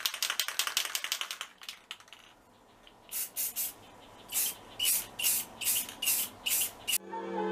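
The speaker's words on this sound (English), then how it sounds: "we're going to put on some clear coat" Clear coat sprayed onto wheels from an aerosol can in a series of short hissing bursts, about eight of them, each lasting roughly a quarter second, close and fairly loud with brief pauses between, preceded by quieter handling rattles and no talk.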